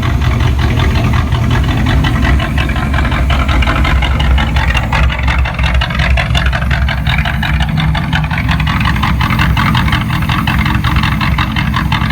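A carburetted 1981 Chevrolet Corvette C3 idles just after being started, a loud, close, steady low rumble with an even throb that stays unchanged throughout, with no talk over it.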